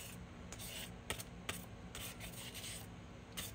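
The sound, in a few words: sanding and scuffing a tumbler surface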